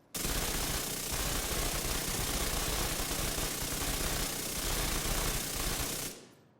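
A machine gun in The Division 2 firing nonstop without reloading, one continuous loud rattling roar for about six seconds, then cutting off abruptly.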